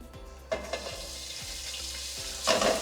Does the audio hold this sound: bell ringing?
no